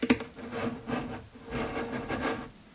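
A hand tool scribes a marking line 37mm in from the edge of a wooden alcove cupboard part for hinge placement, giving soft, close, repeated rubbing and scratching strokes in an uneven rhythm with no voices.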